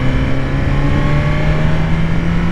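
A motorcycle with a quick shifter accelerates with a loud, steady engine drone whose pitch climbs smoothly over a few seconds, heard from on the bike.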